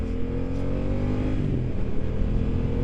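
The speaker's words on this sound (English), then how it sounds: "How good does this bike sound?" A 900cc BMW F900R motorcycle engine hums loudly and steadily while the bike is ridden along a bumpy road, a close, continuous growl with slight shifts in pitch and no talking.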